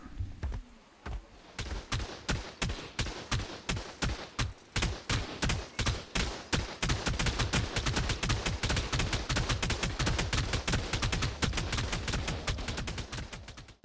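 A tech turret in the game Ark fires rapid, evenly spaced shots, starting in short bursts and settling into a long continuous stream of sharp, loud reports.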